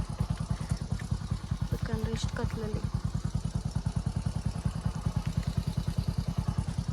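A motorcycle engine idles close by at night in a village with its lights out, a steady rapid low-pitched putter running throughout, while a person talks over it.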